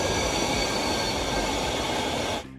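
An elevated U1 subway train in Berlin's Kreuzberg passes close overhead with a loud, steady roar of wheels and rail noise that fills nearly the whole span before cutting off at the end.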